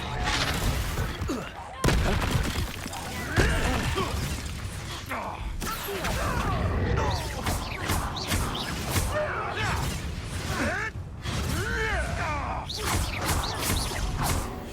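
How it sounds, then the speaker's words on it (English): Confringo and Incendio spells blasting during combat in Hogwarts Legacy, a dense run of booming bursts, whooshes and crashes that sounds loud and continuous, with a voice shouting the spell names over the din. "Incendio! Nothing. Confringo!"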